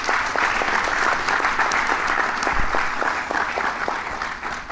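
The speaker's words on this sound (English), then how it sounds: "Big round of applause for Craig" An audience at a Novartis groundbreaking event in the Durham–Morrisville area gives a big, sustained round of applause, many hands clapping steadily and close, with hardly any talking over it.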